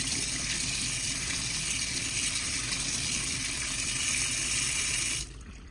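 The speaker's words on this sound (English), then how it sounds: "refresh under cold running water" A kitchen tap runs cold water at a steady, close gush over cooked squid for about five seconds, then cuts off abruptly.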